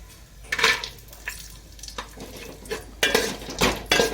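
Cashew nuts fry in oil in a pan for Basanti pulao, with bursts of sizzling and scraping stirring strokes, plus the clink of a utensil against the pan at close range.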